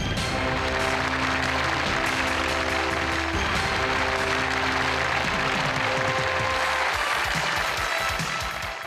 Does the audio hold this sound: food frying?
no